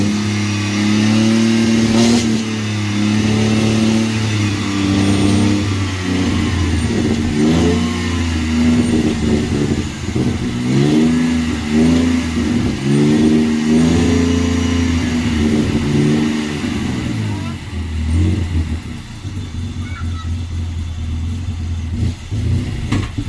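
A Ford F100 engine revs repeatedly, loud and close, rising and falling in pitch through several throttle blips before settling into a rumbling idle.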